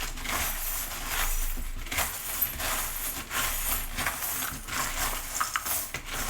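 Small metal divination charms rattle and clink as they are shaken and cast, a steady close jingling with scattered sharper clicks throughout, no voices.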